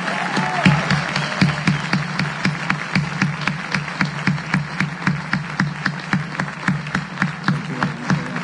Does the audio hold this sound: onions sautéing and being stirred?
no